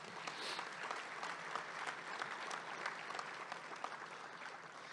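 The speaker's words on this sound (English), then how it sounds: "I'd like the audience to give the team at the City of Somerset a round of applause as well." An audience at a Chamber of Commerce monthly luncheon gives the City of Somerset team a round of applause: steady, even clapping from a moderate-sized room that carries on without a break.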